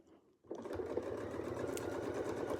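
Sewing machine stitching a quilting pattern with a Westalee ruler foot, starting abruptly after a short pause and then running at a steady, fairly quiet mechanical hum.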